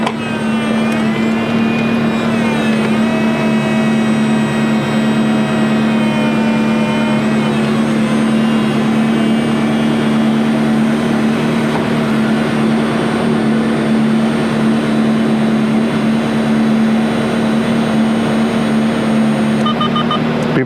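A 2004 Ferrari 360 Spider F1 lowers its convertible top, a steady mechanical hum with a strong droning tone and shifting motor whine running continuously and close for the whole stretch, ending with faint electronic beeps.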